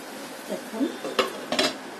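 A metal lid clanks down onto a pan of semolina and vegetable breakfast, two or three sharp close knocks and rattles over a faint background.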